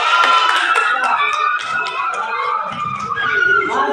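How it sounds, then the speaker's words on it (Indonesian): A group of schoolchildren in a primary school classroom clap their hands in a quick, uneven patter, with a teacher talking over the clapping. "tepuk tangan"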